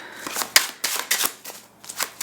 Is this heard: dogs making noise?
no